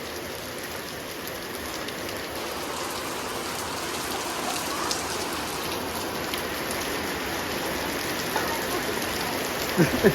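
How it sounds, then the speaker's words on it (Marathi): Sudden heavy village rain drums steadily on surfaces nearby, a thick continuous patter that holds evenly throughout, ending with a few louder knocks and clatters. "मंडळी अचानक भयानक पाऊस आलेला आपल्या गावाकडे"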